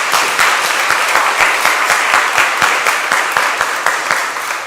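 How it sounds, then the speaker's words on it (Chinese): Church congregation claps in welcome for newly baptised members, a sustained burst of applause with a few sharp individual claps standing out in a regular rhythm, loud and close. "用掌声来欢迎他们在我们当中"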